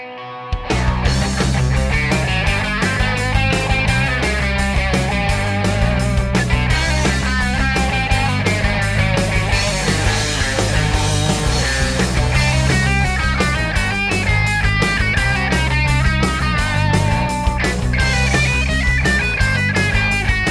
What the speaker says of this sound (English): Let's hear a little bit of the phaser coming into it,